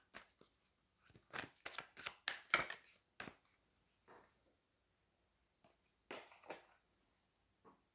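Tarot cards are shuffled and drawn by hand in a series of close, crisp papery flicks and slaps, clustered in bursts with brief quiet gaps between them.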